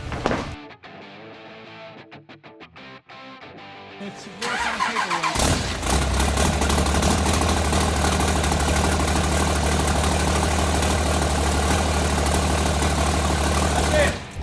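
A turbocharged pulling truck engine cranks in sputtering bursts, then catches and roars into a loud, steady, rough idle that carries on to the end.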